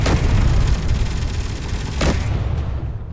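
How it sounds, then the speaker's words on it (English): A wrecked drone outside a base on Mars in a video game gives off loud, close, booming bangs in a dense rumbling burst, with a sharp second crack near the two-second mark before the noise trails off. "That loud banging noise is a wrecked drone out front."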